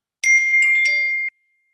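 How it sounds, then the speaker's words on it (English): A computer notification bell chimes alone during a lecture, a bright ringing tone with a couple of quick overlapping strikes that sustains for about a second, then stops cleanly. "I need to turn that bell sound off."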